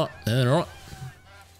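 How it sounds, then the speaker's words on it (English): A goose in the Call of the Wild hunting game gives one loud, near honk, and a faint second call follows as the sound fades. "I hear Goose. I hear gooses."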